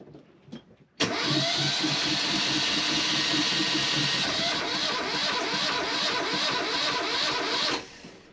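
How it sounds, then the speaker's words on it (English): A troublesome engine on a 30-foot sailboat being started, cranking over loudly and steadily for about seven seconds with a rhythmic labouring pulse before cutting off, close and alone after a brief quiet rustle. "Still having a ton of trouble with the engine, so hopefully I can get it started"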